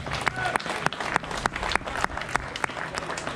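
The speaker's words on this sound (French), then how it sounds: "sous vos applaudissements." Sparse audience applause at the opening of the Rallye Jean Rolland in Saint-André-les-Alpes, with a scattering of individual sharp claps over a steady crowd murmur and a few voices in the background.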